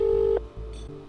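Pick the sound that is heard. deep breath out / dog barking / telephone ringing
telephone ringing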